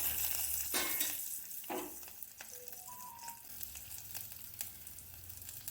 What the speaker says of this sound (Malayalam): ഇതെല്ലാം നമുക്കൊന്ന് ചെറുതായിട്ടൊന്ന് വഴറ്റിയെടുക്കാം